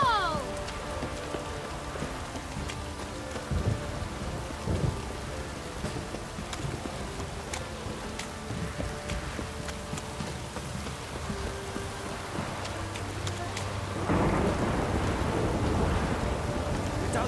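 Steady rain patters in Witcher 3: Wild Hunt gameplay, a constant hiss of drops with low thunder rumbling in the background and building louder near the end.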